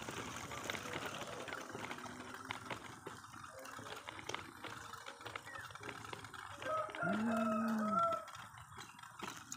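Chickens clucking and a rooster crowing somewhat distantly amid steady outdoor background noise on a farm, with a louder crow near the end.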